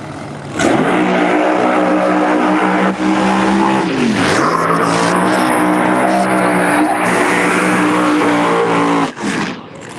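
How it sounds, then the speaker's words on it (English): Pro Mod drag race cars roaring down the strip at Maryland International Raceway, a loud sustained engine howl with rising harmonic pitch, one gear-change dip midway, cutting off near the end. "What a good round of racing here early this morning, Maryland International Raceway."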